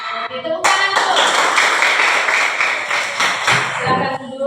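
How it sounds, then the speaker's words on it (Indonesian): A class of children claps hands together in a classroom, producing loud, dense, sustained clapping that starts abruptly, carries on for several seconds and then fades. "Oke, tepuk tangan dulu."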